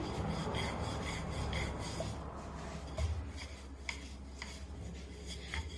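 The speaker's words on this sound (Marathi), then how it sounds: "पराठा अगदी हलक्या हाताने लाटून घ्यायचा। सगळीकडून व्यवस्थित गोल आकारामध्ये हा पराठा आपल्याला लाटून घ्यायचा आहे।" Egg paratha dough is rolled out with a rolling pin, making continuous soft rubbing and scraping strokes close up, steady and fairly quiet with occasional light knocks.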